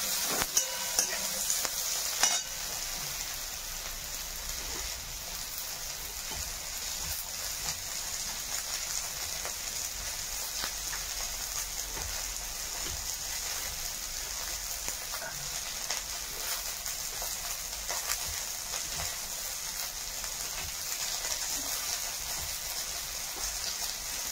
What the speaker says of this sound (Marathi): मिरच्या पण ह्यात टाकून घेतो म्हणजे थोड्या भाजतो